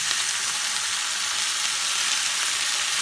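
Fresh spinach hitting a hot frying pan of oil for aloo palak sabji, a dense, steady hissing sizzle that runs unbroken and fairly quiet, with no voices.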